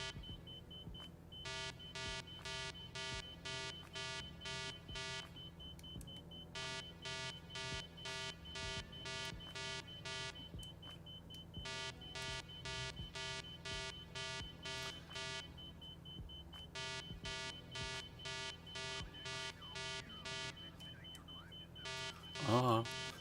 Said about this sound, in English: I don't know what the beeping is, but no beeping sounds good.